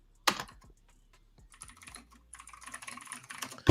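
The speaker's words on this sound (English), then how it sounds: "Yuck Mouth was just talking about how fast this nigga was typing" Rapid typing on a computer keyboard, a dense run of quick clicking keystrokes after an initial sharp knock, with short pauses between bursts. No voices.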